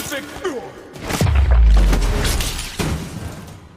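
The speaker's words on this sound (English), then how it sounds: "There was a massive explosion." A massive explosion in the video game Dishonored 2 booms with a deep, rumbling low-end blast and scattered debris, followed by a second thud, with a character's voice audible before it.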